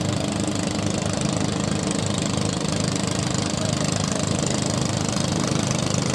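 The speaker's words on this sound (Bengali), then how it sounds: "ওখানে একটি লঞ্চ দেখতে পাচ্ছেন, পাশে আরেকটি আসতেছে লঞ্চ" Boat engine of a launch passing on a lake near Barkal, Rangamati, a steady loud low rumble with a knocking chug throughout, no talking.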